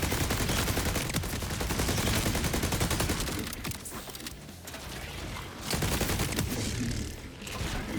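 The Cold Shoulder gun fires in Borderlands, a dense continuous fusillade of rapid game gunshots, loud and sustained, easing briefly in the middle before resuming at full intensity.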